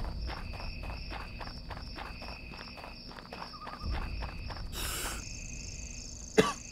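A character in a horror video game coughs in a haunted house amid footsteps and faint insect-like ambience, with a sharp burst near the end; the cough is fairly quiet and brief under the game's background.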